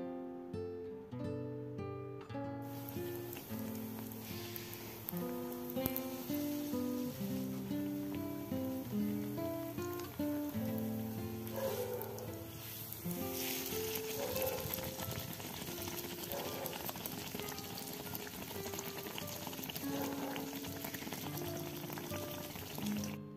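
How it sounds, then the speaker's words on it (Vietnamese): Batter for bánh tai yến fries in a pan, giving a constant crackling sizzle beneath prominent background music that runs the whole way. "mình sẽ rót bột vào chảo ha, tiếp tục chiên, chiên đến khi nào hết bột này thì thôi."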